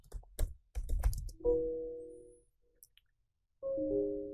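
Keys on a computer keyboard are tapped as a password is typed into an Ubuntu Linux system, a quick burst of close, crisp clicks at the start followed by a few soft chimes and tones.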